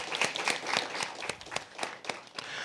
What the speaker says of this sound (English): give our debaters on both sides another round of applause